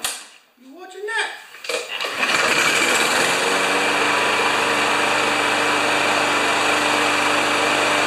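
Yard Works lawn mower with a suspected automatic choke problem, pulled over a few times until the small engine catches, then running steadily and loudly close by.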